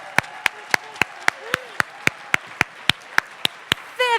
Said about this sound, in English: Can we give another round of applause to the amazing Rick Steves?